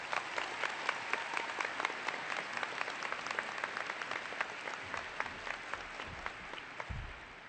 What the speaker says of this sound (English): please give a big round of applause and acknowledgement to Tom C. Clark High School's 2023 salutatorian